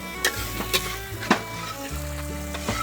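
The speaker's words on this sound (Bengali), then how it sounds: "এই যে আমাদের রান্না বান্না হচ্ছে এখানে" Food frying in a pan at a cooking spot near Keokradong, Bandarban, gives a steady sizzling hiss with a few soft clattering stirs, close by, over a low droning background hum.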